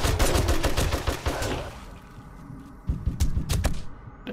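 Rapid bursts of M60 machine gun fire in the game 7 Days to Die, loud and close: a sustained stream of shots, a short pause, then another quick burst of rounds.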